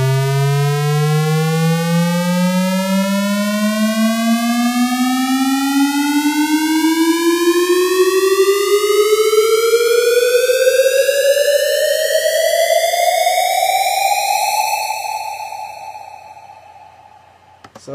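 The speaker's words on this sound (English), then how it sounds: "it's just that typical rising sound that you hear in a lot of electronic tracks" A synth riser built in NI Massive for house music sweeps steadily upward in pitch for about fifteen seconds, loud and harmonically rich, then fades away alone with no voices.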